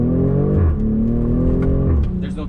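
BMW X6 40i, a 2020 M Sport with a turbocharged engine, accelerating hard in Sport Plus mode. Loud, steady engine roar rises in pitch through the gears, with a brief shift dip near the middle, heard from inside the cabin.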